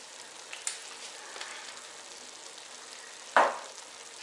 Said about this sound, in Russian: все это перемешиваем